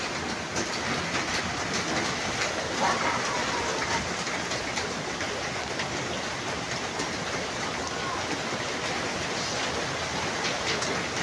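Heavy rain pouring steadily on a city construction site, a dense, even roar of drops with no breaks, close and fairly loud, no voices.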